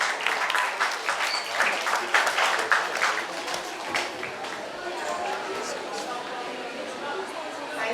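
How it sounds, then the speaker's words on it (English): At a book launch for a young author, the audience breaks into lively clapping that is strongest at first and then settles into a softer patter, with murmured crowd chatter mixed in. "Can we have a round of applause"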